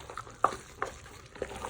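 A spoon stirs padukuttan, a Malappuram-style dish, as it cooks in a pan. Three or four close scraping strokes come at uneven intervals over a soft, steady sizzle, with no talking.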